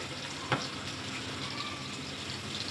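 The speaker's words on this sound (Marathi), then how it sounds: "कढीपत्ता, टोमॅटो, कांदा सगळं टाकून घेतलेलं आहे आणि आपल्याला आता छान ह्याला परतून घ्यायचं आहे" Curry leaves, tomato and onion frying in a pan, an even close sizzle throughout with a single sharp stirring knock early on.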